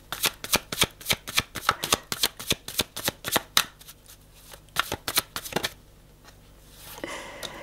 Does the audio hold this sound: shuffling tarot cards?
yes